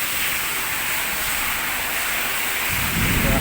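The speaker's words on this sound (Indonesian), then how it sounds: "Suasana Bogor sedang hujan deras," Heavy rain pouring in Bogor during a storm with strong wind, a loud, dense, continuous hiss of downpour that swells near the end with a low rumble.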